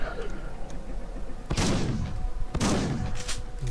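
Shotgun blasts in the horror game Unloved: two loud, sharp shots about a second apart cut through low background ambience, each followed by a short decaying rumble, with a faint extra crack after the second.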